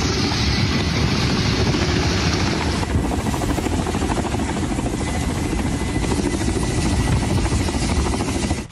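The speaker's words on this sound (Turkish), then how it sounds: "Ardından K-29 helikopteriyle gemiye Rus askerleri indi." A Russian K-29 military helicopter lands soldiers onto a cargo ship, its loud, steady rotor and engine roar filling the scene without a break and a rapid beating chop under the whine.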